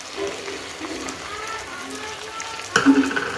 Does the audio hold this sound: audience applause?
no